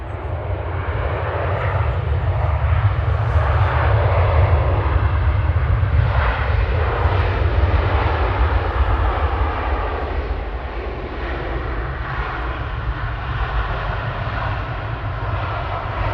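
A Kuwait airliner at Manchester Airport roars steadily for the whole stretch, a broad, loud engine rush with a heavy low-end rumble and no break in the sound.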